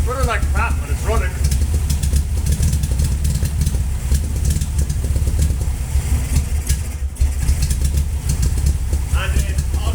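An old VW Beetle engine with messy wiring runs roughly in a steady low rumble close by, continuous throughout with a voice talking over it.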